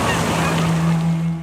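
Canada geese honk outdoors at sunset during an Alberta whitetail hunt, with a sustained nasal call carried over a steady wash of wind or water noise.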